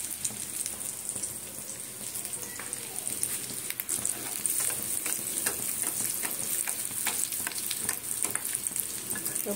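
Egg chops sizzle in hot oil with a steady, dense frying crackle and scattered sharper pops throughout, close and alone with no talk.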